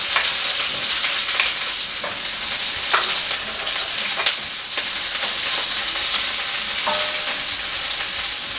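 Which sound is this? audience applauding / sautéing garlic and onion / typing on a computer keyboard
sautéing garlic and onion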